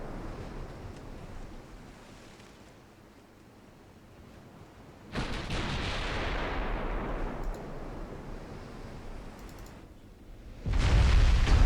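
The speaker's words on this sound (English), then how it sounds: "That was a good shot from the destroyer." A destroyer's gun firing in a naval video game, a loud sudden blast with a long rumbling decay over wind and ocean surf, then a second heavy boom near the end, no talk.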